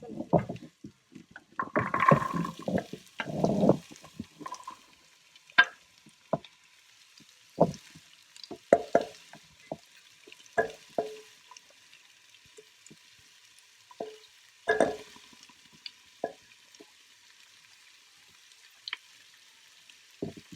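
Vegetables sizzle and crackle in a hot pan with garlic, stirred in irregular bursts of scraping and spitting over about twenty seconds, close by with no talking.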